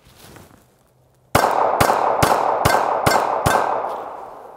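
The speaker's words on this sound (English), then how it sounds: "I'm going to run 40 six-round magazines through this Glock." A Glock 43 pistol, new out of the box and unlubricated, fires six sharp, loud shots in a rapid, even rhythm after a brief quiet pause, each crack ringing out close by.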